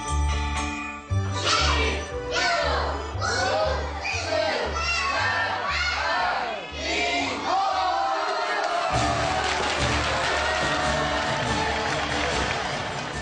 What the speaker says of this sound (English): The entire country cheers when the New Year's bell rings.